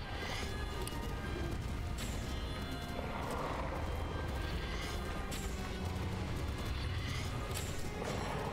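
A horse in the Breath of the Wild video game, with galloping hoofbeats and whinnying over a busy game soundscape with crashes and mechanical clatter, moderately loud and continuous.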